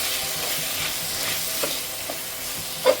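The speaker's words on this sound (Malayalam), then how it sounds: "ടൊമാറ്റോ സോസ് ഒഴിച്ചിട്ട് നമ്മൾ മിക്സ് ചെയ്യും." Tomato sauce is stirred into beef curry frying in a pan, giving a steady close sizzle with a few soft scrapes and one sharper clink near the end.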